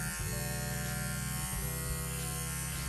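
Electric clippers trim a Shetland sheepdog's fur, giving a steady close buzzing hum throughout with a faint fluctuation as the blade moves through the coat, no voices.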